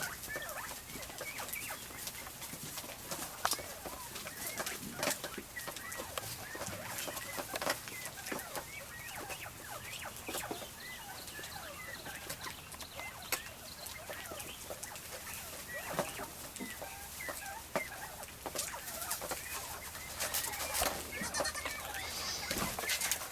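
Caged quail cluck, chirp and scratch without pause, a busy, close chorus of small bird calls over constant rustling.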